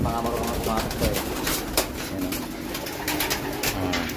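Pigeons cooing steadily in a loft among racing birds, a soft continuous chorus of overlapping coos with faint fluttering and background room noise.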